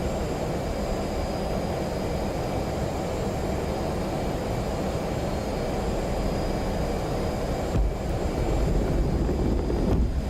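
An F/A-18 jet in the DCS flight simulator roars steadily as it launches off a carrier deck, a loud, continuous engine rumble with a faint high whine and a brief thump shortly before the end.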